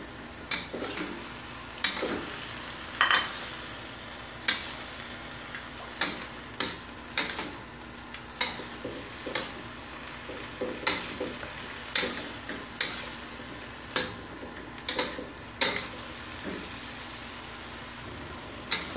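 Tempeh sizzles in a frying pan under a steady low hiss while a utensil scrapes and taps against the pan in irregular, frequent strokes, close and moderately loud, with no voices.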